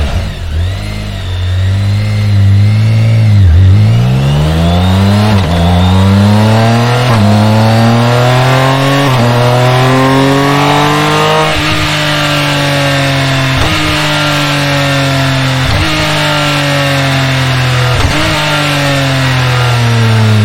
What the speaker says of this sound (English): And now here's the K1600 sound.